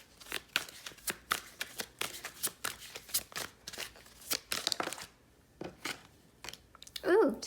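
Tarot cards being handled and drawn, with a quick series of crisp flicks, snaps and slides in an uneven rhythm, close and fairly quiet, ending with a brief voice.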